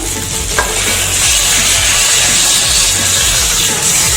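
Potatoes sizzle loudly in a hot pan, a constant crackling hiss with faint scraping as they are stirred, close up and without speech.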